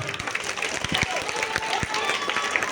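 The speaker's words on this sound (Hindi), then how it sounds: "तो एक बार सब बच्चों के लिए जोर से तालियां बजाएं" Children are applauded by an audience at a school Independence Day program, a dense, continuous clapping with scattered louder claps and a voice faintly over it.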